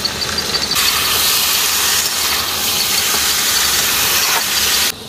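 Chicken hits a pan of browned onions and spices, setting off a loud, steady sizzling hiss up close that starts after a brief pause and cuts off abruptly near the end.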